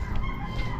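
Backyard free-range chickens clucking and calling steadily for under a second, close by and fairly loud over a dense low rumble of farmyard noise.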